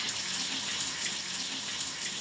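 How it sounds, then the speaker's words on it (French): Water from a prison shower runs in a steady, loud, hissing spray close by, with no talk over it. "Dernière douche, dernière douche."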